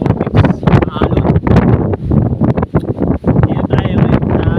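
Strong wind over a choppy sea at Manganoy, Philippines, buffets the microphone in loud, continuous gusts, with a roughness that drowns out other detail; a voice may be speaking underneath.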